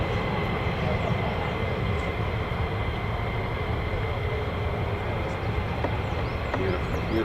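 US Air Force F-15 fighter jets at RAF Lakenheath, a continuous loud jet roar with a steady rumble, and faint bird chirps scattered over it.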